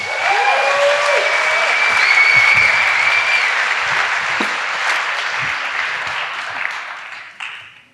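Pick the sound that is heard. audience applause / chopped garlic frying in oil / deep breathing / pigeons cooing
audience applause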